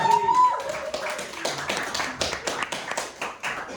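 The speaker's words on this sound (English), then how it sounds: "Round of applause" A small audience at a live show claps in sparse, uneven bursts, individual hand claps distinct and fairly close, with a faint tonal hum behind them.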